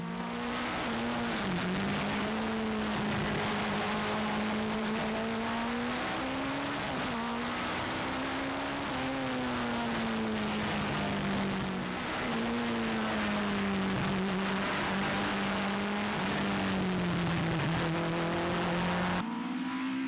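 A Mitjet midget race car laps the Circuit des Écuyers near Château-Thierry, its engine droning loudly and continuously from close by, with the pitch rising and falling through gear changes and corners.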